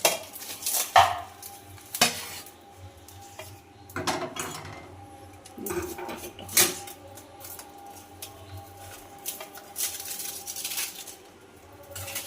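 Clattering kitchen handling as a pan covered with a banana leaf is flipped over while roasting kochur loti, scattered knocks and metallic clinks of the pan and lid with quiet gaps between.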